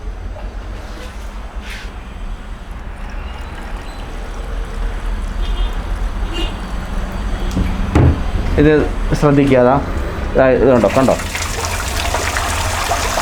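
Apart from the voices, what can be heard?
water poured flowing through car radiator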